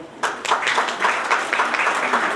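Audience at a Tunisian digital marketing and e-commerce conference applauds for the agencies present, a moderate burst of clapping starting abruptly and continuing steadily in a hall, with some murmured voices underneath.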